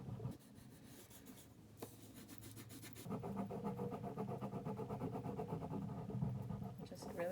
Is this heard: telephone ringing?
no